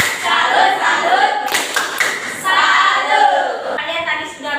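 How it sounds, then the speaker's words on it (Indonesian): A primary school class does the 'tepuk salut' clapping chant, with bursts of group clapping woven through children's voices chanting together, loud and close in a classroom. "Kasih tepuk salut untuk kelompok yang terbaik ya."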